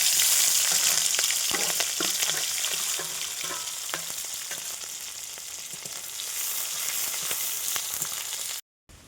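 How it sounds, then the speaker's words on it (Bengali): Onions and green chilies fry in oil in a home kitchen, a steady, dense sizzle with occasional stirring scrapes that continues unbroken before cutting out abruptly near the end. "পেঁয়াজটা লাল লাল করে আমার ভাজা হয়ে গেছে"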